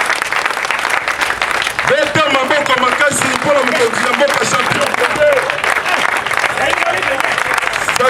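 Crowd at a Congolese political rally applauding and cheering for the head of state, loud and continuous, with an amplified voice speaking over it.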